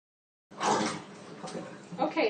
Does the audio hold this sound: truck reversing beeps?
no